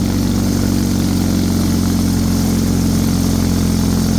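A Bolens HT23 snowblower engine working through deep, heavy, melting snow, a loud steady throbbing drone that labours under load without letup, close by and with no talk.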